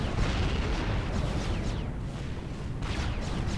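Artillery shells strike an enemy base in the strategy game Supreme Commander Forged Alliance, producing a dense, continuous rumble of booms and blasts. Several sharper impacts stand out within the steady roar.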